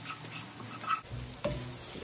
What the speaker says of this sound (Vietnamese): Em để tỏi vô. Ủa Lan xào lên cho nó thơm nha.